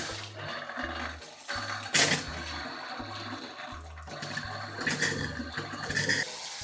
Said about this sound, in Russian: и сейчас уже нормально течет вода.